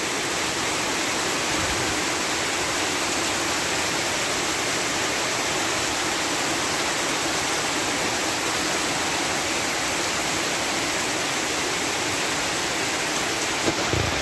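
Heavy monsoon rain pours down in a dense, unbroken roar while water flows across soaked ground, steady and loud for the whole stretch.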